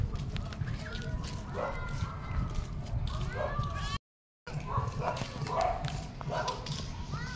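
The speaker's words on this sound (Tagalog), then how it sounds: "Ayan, magkapatid na aso." Two sibling dogs bark in quick overlapping bursts nearby, with chickens clucking and a person's voice mixed in; the sound cuts out briefly midway.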